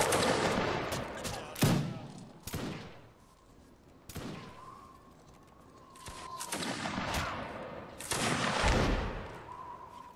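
Musket volleys in a Napoleonic Wars line battle game, with scattered single shots and crackling ragged volleys, some close and loud, others farther off, coming in irregular bursts over a steady battlefield din.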